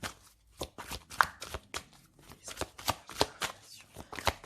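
A deck of tarot cards being shuffled in repeated quick riffling bursts, each a crisp papery flutter, close and fairly loud with short pauses between; no talking.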